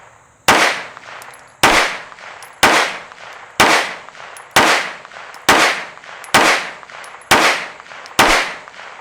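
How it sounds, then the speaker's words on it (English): Nine loud gunshots from a Strike Industries Mass Driver firing hot Winchester rounds at a target, evenly spaced about one second apart, each sharp crack trailing into a ringing outdoor echo. "We're going to shoot at the bottom right target."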